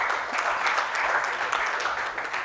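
Delegates at a pre-games symposium and heads of delegation meeting applaud a secretariat official, a steady, even wash of crowd clapping at moderate volume for a couple of seconds, with no voices over it.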